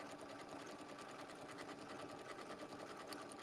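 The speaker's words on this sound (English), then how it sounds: "it's always fun to use the decorative stitches on your machine" A sewing machine runs decorative stitches on appliqué, a soft, steady, rapid whirring patter that continues throughout at low volume.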